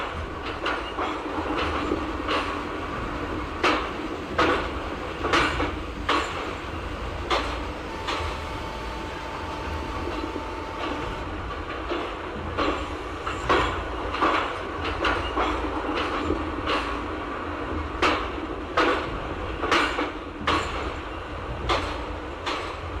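Passenger train interior in an ICF general coach of the Rewa-Rajkot Express passing Khandwa junction: steady rumble with repeated clickety-clack rail joint beats at an even rhythm, no talk.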